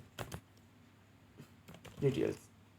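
A few quick, soft keystrokes clatter on a computer keyboard as a section name is typed into an online form, brief clicks close by with a voice speaking nearby.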